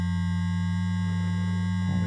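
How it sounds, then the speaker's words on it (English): A steady, pure default sine-wave tone from the ArcSyn synthesizer hums at constant pitch and loudness, with a slight shift in the tone just at the end. "that's the default sine wave we're hearing"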